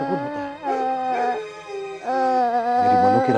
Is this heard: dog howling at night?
yes